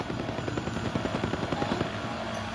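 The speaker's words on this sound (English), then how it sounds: "I'm running out of gas in my drone" A drone in Call of Duty Warzone buzzes overhead with a steady rapid rotor chop that pulses evenly throughout and stays fairly loud, with no one talking.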